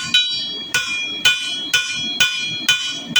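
A blacksmith hammers out a 3.5-inch taper on a stylized leaf, six loud, ringing metallic blows at an even rhythm, each with a bright clang that decays between strikes, close and alone.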